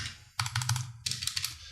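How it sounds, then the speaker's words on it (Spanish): Two quick bursts of typing on a Gamakay MK61 mechanical keyboard with Gateron Brown switches and pudding keycaps, close and crisp clacks in rapid clusters separated by a short pause, no voices. "a pesar de que tanto este MK61 como este Blitzball usan teclados Gateron Brown, el sonido en ambos teclados es bastante distinto"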